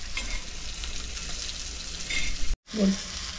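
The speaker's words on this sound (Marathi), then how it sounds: "म्हणजे ती चांगली भाजून फ्राय होऊन येतात." Pieces of Shirolyachi kaap, a crisp Maharashtrian snack, sizzle softly in a covered pan. The frying hiss is steady, then cuts out briefly before a short clatter as the lid or pieces are moved.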